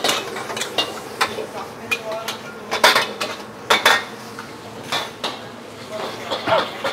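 Nasi goreng is stirred and fried in a restaurant pan, with irregular metallic scraping and clanks of a spatula against the pan, close by.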